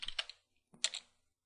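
Two quick bursts of typing a Linux terminal command on a computer keyboard, close and crisp, with a brief pause between them and silence after.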